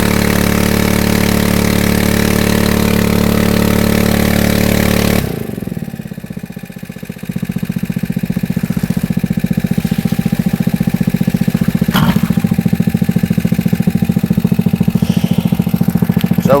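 A Harbor Freight 1-inch gas water pump engine runs steadily at high throttle, then abruptly drops to a lower idle and continues chugging loudly, close and alone.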